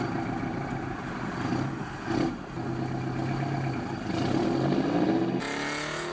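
A Detroit Diesel 8V71, the 9.3-liter two-stroke V8 diesel introduced in 1957, runs steadily with a dense, buzzy drone, close and continuous, its pitch shifting slightly near the end.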